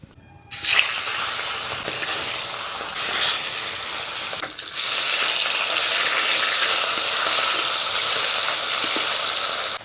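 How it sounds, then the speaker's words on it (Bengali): Bata fish coated in turmeric hits hot oil and sizzles loudly, with the frying starting abruptly and then hissing steadily close by with no talk. "তার মধ্যে তেল একটু দিয়ে মাছটাকে আগে ভেজে নেব"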